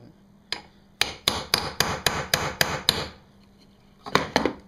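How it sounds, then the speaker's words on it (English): Ball peen hammer blows mashing a washer onto a PVC sheath for a Katana machete: a steady run of eight sharp, loud metallic strikes, then two more after a short pause, with one lone tap near the start. "the back of the ball peen hammer, it's really good for mashing it out"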